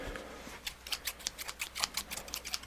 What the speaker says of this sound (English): we're gonna get some scissors out here.